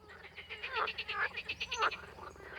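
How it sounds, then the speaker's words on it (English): A pot of radish sambar bubbling on the stove with a steady low simmer, broken once by a brief metallic clink. "Male green frogs and tree frogs have particularly powerful voices."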